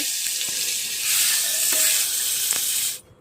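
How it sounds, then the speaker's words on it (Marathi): Masala sizzles in a pot of butter and oil, a steady loud frying hiss with faint stirring clicks, holding for about three seconds before cutting off abruptly. "आणि त्यामध्येच आपल्या मसाला फ्राय करायचा"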